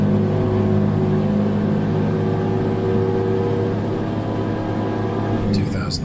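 Heavy truck engine in American Truck Simulator hauling extreme heavy cargo, a steady loud droning hum held at high revs throughout with no break.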